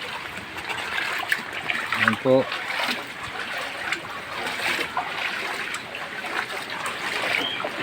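Floodwater from rain and seawater flowing behind a house during a typhoon, a steady trickling and splashing wash heard with a person speaking briefly over it.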